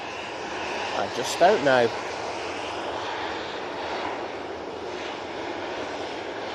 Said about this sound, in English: Next out should be the TUI 737-800 off to Skiathos.